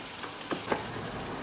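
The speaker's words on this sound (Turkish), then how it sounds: "küçük tencereme bir miktar sıvı yağ koy, pardon tereyağı koyup şöyle bir yemek kaşığı kadar un ile kavuracağım" Butter and flour roasting in a small pot, a soft continuous sizzle with a couple of brief stirring scrapes, quiet and close with no voices.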